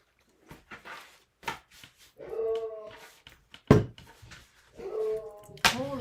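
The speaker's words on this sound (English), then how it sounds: "Now that's somebody else walking their dog. She does not like that." A dog whimpers and yips in short, high whines and sharp bursts, close and fairly loud, reacting to another dog being walked past outside.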